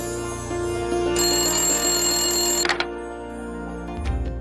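A telephone rings with a steady electronic tone for over a second, loud and close, over a low background hum, with no one speaking.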